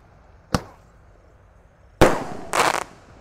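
1.8 inch Roman candle firework: a sharp single shot, a pause, then a louder launch burst with decaying hiss followed by a second bang, close and outdoors.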